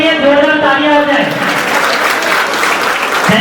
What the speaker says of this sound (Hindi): इन लोगों के लिए जोरदार तालियां हो जाए।